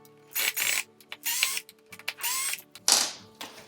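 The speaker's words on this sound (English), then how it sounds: "I'm going to unscrew it and see if I can take this base off." Screws being unscrewed from beneath a Christmas tree base: a series of short bursts of close mechanical whirring and clicking, like a small driver spinning, separated by brief pauses.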